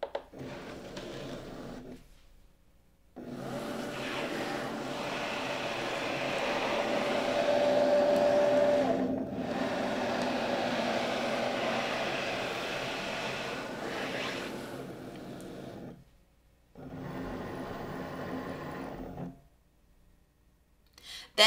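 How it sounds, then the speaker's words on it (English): A Cricut Maker 3 cutting machine loads a mat carrying an Infusible Ink sheet and runs, giving a steady mechanical whir and hum in long stretches with short silent pauses between passes. It is moderately loud, with no talking. "I'll open up my Cricut Maker 3"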